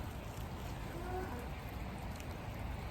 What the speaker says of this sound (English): it's freezing rain outside.